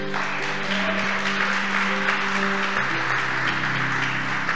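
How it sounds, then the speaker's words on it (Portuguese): A church congregation claps together, a dense, loud applause that carries on without pause while a sustained musical drone plays beneath it. "Aplauda o Senhor Jesus."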